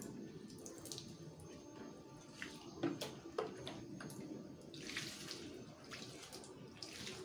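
Potted aglaonema plants being watered generously with leftover vitamin B1 water poured over the leaves, a soft continuous trickle and splash with a few drips, quiet and close.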